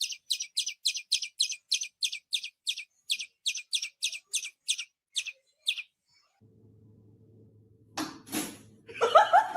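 A bird rescued and nursed back to health, released into the wild, gives a rapid series of sharp, high chirps, then falls quiet before a low hum and brief rustling, clattering noises.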